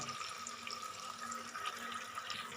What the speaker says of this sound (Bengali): দিয়ে দিচ্ছি বাটি ধোয়া জলটা